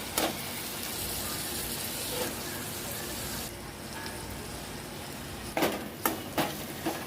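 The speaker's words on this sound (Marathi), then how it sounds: "चांगली आपल्याला मी डाळ अशी फ्राय करून घ्यायची" Soaked, washed dal frying in oil with black masala and Agri masala, a steady close sizzle running throughout with a few sharp clinks of a spoon against the pan near the end.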